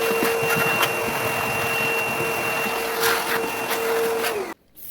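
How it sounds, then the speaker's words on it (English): A vacuum cleaner runs inside an oven during cleaning, a steady whining drone with scraping bumps that cuts off abruptly near the end. "Hit it with the vacuum again."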